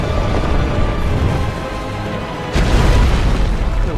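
A dragon in the game Dark Souls 2 breathes fire: a deep rumbling roar that swells suddenly halfway through into a louder, sustained blast of booming flame.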